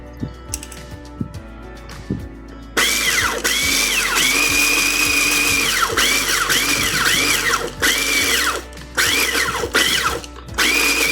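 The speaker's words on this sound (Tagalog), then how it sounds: "Hindi blender sa chopper, food chopper ito." An electric food chopper whirs loudly and steadily, its motor pitch dipping and rising in repeated pulses as it chops, after a few quieter clicks at the start.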